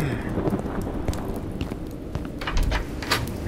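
Storm sound effect for an audio drama of a night gale around a house: steady roaring wind and dense rain with scattered sharp gusts and patters, alone and fairly loud throughout.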